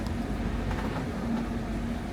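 An electric car rolls off the Eurotunnel shuttle train at night, heard from inside as a steady, loud low rumble with a faint mechanical whine running through it.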